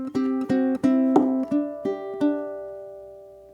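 Solo ukulele picks the next bar of a song: about eight bright plucked notes in a steady, even rhythm, close and clear, with the final note ringing out and slowly fading.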